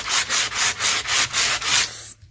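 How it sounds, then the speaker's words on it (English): Sandpaper rubbing over an old varnished wooden picture frame in about seven quick, even back-and-forth strokes, close and fairly loud, then stopping. "I'm just going to sand it down to remove some of the glossiness"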